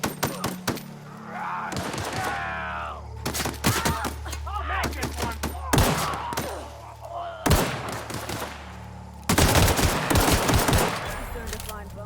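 Gunfire in The Outer Worlds, several rapid automatic bursts of sharp, loud shots broken by short pauses, with a voice speaking between the volleys.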